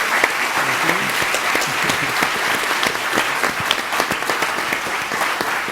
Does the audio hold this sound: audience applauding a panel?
yes